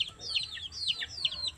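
Free-range village chickens clucking close by in a rapid run of short, bright calls over faint low background noise.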